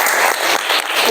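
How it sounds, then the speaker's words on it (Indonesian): Classmates in a school lesson break into a short burst of applause, a dense wash of clapping from a room of students lasting about a second. "Oh ya, tepuk tangan untuk teman-teman kita."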